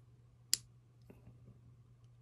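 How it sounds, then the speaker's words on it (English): A single sharp, faint click as part of a LAMY Ideos fountain pen is twisted, followed by a couple of softer taps over a low steady hum, with no talking. "That has a very slight click, just enough that you'll feel it when you twist it."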